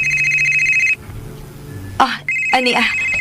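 A phone ringtone plays in a steady loop as an incoming call arrives, then cuts off. After a short pause it rings again, with a voice speaking briefly over the tones.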